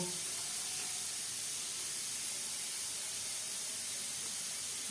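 A steady, quiet hiss of steam escapes a pressure cooker on a kitchen stove while a Tangra fish curry with maan kochu (giant taro) cooks. The broadband rush runs unbroken from start to finish, with no distinct whistle bursts and no talking.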